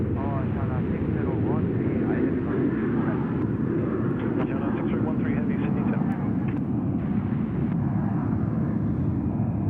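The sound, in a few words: Velocity Boeing 737-800 airliner at Sydney Airport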